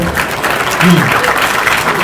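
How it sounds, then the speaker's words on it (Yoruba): Audience clapping at a Yoruba royal gathering comes as a full, continuous round of applause with a brief swell partway through, many hands blending into a constant roar. "ẹ pàtẹ́wọ́ yẹn dáadáa o"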